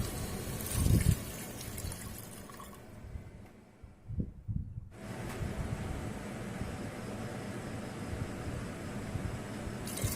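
Water poured from a bowl into a pressure cooker holding mutton biryani makes a steady close splashing and trickling wash, quieter in the middle and otherwise continuous, with no talking.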